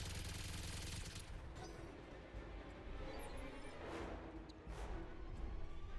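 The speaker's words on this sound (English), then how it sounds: "Fire both of those machine guns into him." Machine guns fire in dense sustained bursts in a mech combat video game, loud and continuous with a rapid rattling fusillade and brief dips between volleys.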